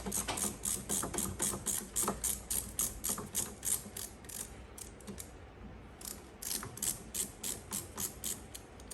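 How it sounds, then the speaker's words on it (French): Torque wrench ratcheting in quick, even clicking strokes while tightening a brake caliper bolt, close and crisp, with a short pause midway before the clicks resume; no one speaks. "Donc on va utiliser une clé dynamométrique."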